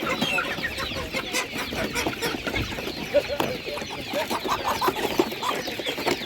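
Chickens and hens cluck busily at a rural animal market, a steady chorus of close and distant clucks with occasional louder calls, while people talk in the background.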